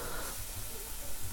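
Chicken kebab pieces sizzle on a hot plate, a loud, close, steady hiss with no voices.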